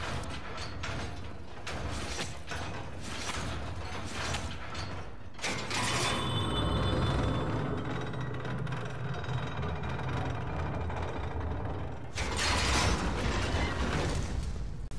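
A heavy door mechanism grinds open in Castlevania: Lords of Shadow, gears and ratchets clanking and creaking in a long loud churn, then a fresh burst of machinery near the end.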